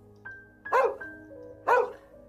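A dog barks twice within a narrated storybook scene set at a nursery window, two sharp mid-distance barks over a faint sustained tone.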